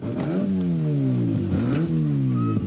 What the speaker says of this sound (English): how hard Neil Allport drives this car